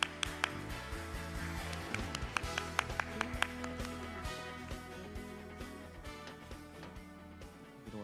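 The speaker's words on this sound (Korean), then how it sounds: "나올 때 우리 큰 박수로 환영해 주시면 감사하겠습니다" Claps and taps from a church youth group gathering welcoming a new member, irregular and moderately close, mixed with low music and room noise.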